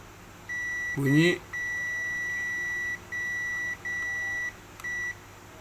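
A multimeter's continuity-test beep sounds repeatedly in long and short tones, each cut off abruptly, with a brief burst of speech near the start, while probing the backlight circuit of a dim Panasonic 60-inch LED TV.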